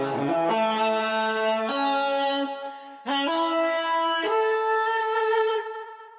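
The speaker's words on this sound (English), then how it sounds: "if you add in delay and reverb and maybe the doubler, you get something that sounds like this" Sung vocal run through a HeadRush Looperboard with vocal tune, delay, reverb and doubler, two sustained pitch-corrected phrases with stepped notes and a smooth shimmering tail, close and alone.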